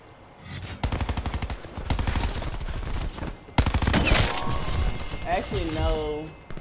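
Rapid automatic gunfire bursts from Call of Duty: Black Ops 4 multiplayer, loud sustained volleys with a brief pause midway, mixed with game effects and a player talking over the action.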